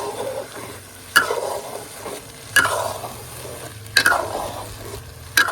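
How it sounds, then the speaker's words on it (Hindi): Halwa being stirred and mixed in a pan, with four sharp scrapes of the spoon at regular intervals over a low, steady sizzle and a hum from the stove. "अच्छी तरह से इसको मिक्स कर लेंगे"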